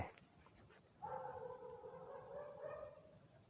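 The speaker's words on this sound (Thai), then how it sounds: "คลิปนี้อาจจะมีเสียงนอกบ้าน มีหมาเห่านิดนึง" A dog barks and howls outside a house, a faint distant voice rising into a drawn-out wavering howl that carries on for a few seconds against quiet background noise.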